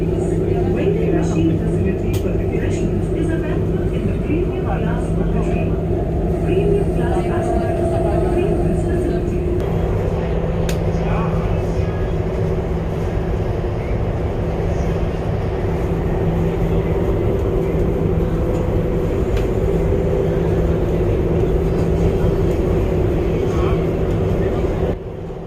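A Namo Bharat RRTS train runs at about 160 km/h near Muradnagar on the Delhi–Meerut line, heard from inside as a steady loud rumble and whine with no pauses.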